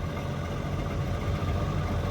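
A 1992 Kawasaki Jetmate idles steadily in a river no-wake zone, a close, low, continuous engine rumble with even vibration and no talk.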